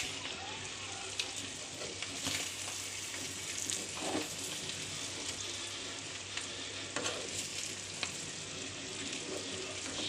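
Chicken fries in a pan with a steady, close crackling sizzle, broken by occasional louder pops and stirring scrapes throughout.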